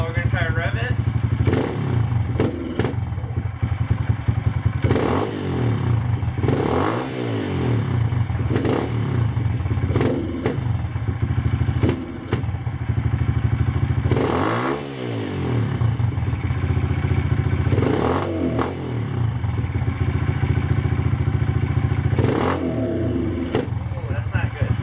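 Kawasaki KLX140 dirt bike engine, fitted with a KX65 carburetor, revving hard in repeated sharp bursts that rise and fall over a steady loud idle, close up, with a person talking intermittently.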